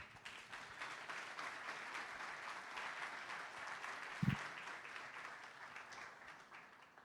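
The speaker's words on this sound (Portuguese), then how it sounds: "com os aplausos de vocês" Audience applause at a talk show welcoming a journalist and a professor, a steady, fairly faint wash of clapping for several seconds with one brief low thump partway through.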